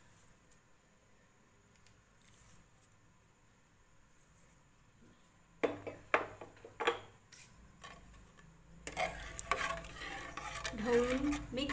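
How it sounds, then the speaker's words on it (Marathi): A spoon stirs chole masala curry in a pot: quiet at first, then a series of clinks and scrapes against metal with a faint sizzle building in the last few seconds. "ढवळून मिक्स करून घेऊया"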